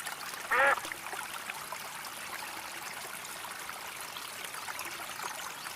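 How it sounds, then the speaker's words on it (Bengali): A wild duck caught in a net gives one short, loud quack near the start, then only a steady outdoor trickle of water and soft background hiss continue with no voices. "আরে, জালের সাথে একটা বুনো হাঁস আটকে আছে দেখি।"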